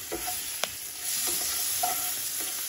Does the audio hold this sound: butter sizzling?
yes